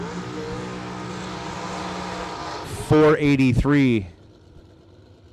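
A drag racing car's engine drones steadily at high revs during a burnout at a Christmas bash race meet, loud and sustained, before an announcer speaks briefly over the track.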